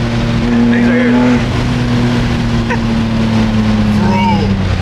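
BMW M2 engine drones steadily from inside the car while driving, a constant low hum with occasional tire noise, and people talk over it.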